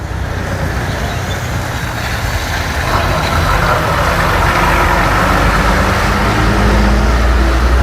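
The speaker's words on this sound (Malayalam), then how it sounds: "ബസ് വന്നു." A bus pulls up at a rural roadside stop in Wayanad and its engine idles, a loud, steady diesel rumble close by that swells slightly midway and then holds, with no voices over it.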